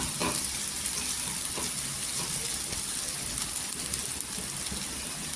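Constant loud sizzling and hissing of potatoes frying in hot oil, steady throughout with faint clicks from utensils.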